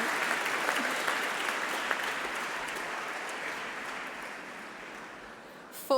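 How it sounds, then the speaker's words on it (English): Audience at a university graduation ceremony clapping steadily in a large hall, a sustained, moderately loud wash of applause that slowly tapers, with no voices over it. "give him a round of applause"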